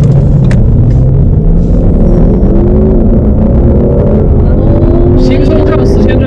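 Ford Mustang GT with a 5.0 V8 in Sport mode, engine revving and pulling hard under acceleration, a loud steady low rumble rising in pitch, heard from inside the car with a voice speaking over it.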